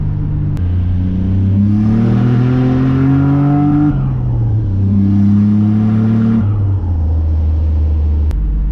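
Nissan Navara with a turbocharged VG30 engine accelerating hard through second and third gear, loud rising engine drone climbing in pitch, a brief dip at the gear change, then climbing again, heard from inside the vehicle.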